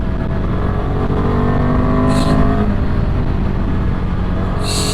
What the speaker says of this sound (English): Revving it up. Let me drop a gear to check third now.